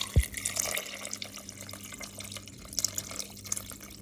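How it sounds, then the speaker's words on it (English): Water poured into a pan of meat seasoned with salt and black pepper, a soft splashing trickle with light drips, quiet and close, alone without talk. "we're also going to be adding some water"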